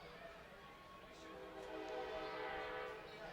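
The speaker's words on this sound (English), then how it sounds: "some would argue the sound of a train horn in the Midwest is the sound of bliss" A train horn sounds near a Midwest ballpark, a sustained tonal blast that swells and fades, moderately distant and faint under a broad ambient wash.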